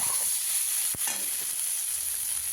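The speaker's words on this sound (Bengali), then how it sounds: "সবজিটা বেশ ভালো করে ফ্রাই হয়েছে" Vegetables frying in a pan for a light rui fish curry, a steady close hiss of sizzling oil with a sharp stirring scrape partway through and no talking.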